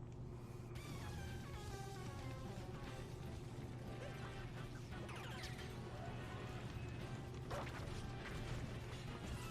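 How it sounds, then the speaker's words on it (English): Loud crashing, creaking mechanical clatter and rumbling from a tank blowing up in a video game, with a dense, continuous low drone and scattered metallic smashes throughout. "Why did I blow up the tank?"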